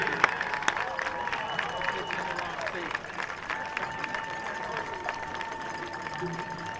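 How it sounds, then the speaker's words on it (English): A crowd at a high school varsity football game applauds and cheers for the team and managers, a busy spread of clapping and voices with loudspeaker talk running over the top. "how about a round of applause for this year's Panther varsity football and managers"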